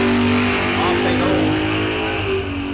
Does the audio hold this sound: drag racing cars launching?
yes